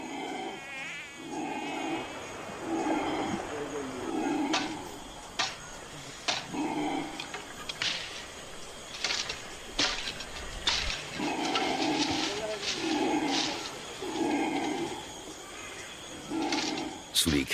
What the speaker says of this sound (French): Sous les cris de protestation des singes hurleurs